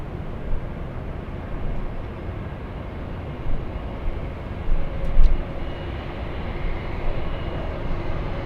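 A jet airliner at Los Angeles airport produces a steady, loud, broadband roar with deep rumble throughout, swelling slightly at moments, heard from a distance with no speech.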